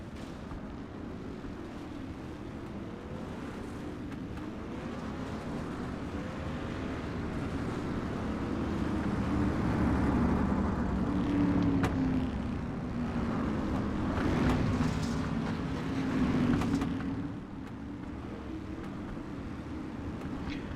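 Dirt track race cars roar at Lernerville Speedway, engine drones building and winding out in a long rumbling swell that peaks then fades as the cars pass at a distance.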